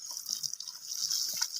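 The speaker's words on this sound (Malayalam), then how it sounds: "അപ്പം കഴിച്ച് ഞാനിപ്പോൾ ഗോബാഗിൽ വെള്ളം ഒഴിക്കുകയാണ്" Water is poured into grow bags in a home vegetable garden, a soft continuous hissing stream, faint and steady throughout.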